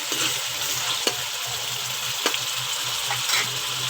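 Ingredients for sarson ka saag fry in hot oil until light golden, giving a loud, steady, close sizzle with a few soft clicks from stirring.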